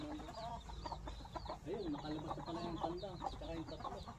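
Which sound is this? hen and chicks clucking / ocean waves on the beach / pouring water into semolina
hen and chicks clucking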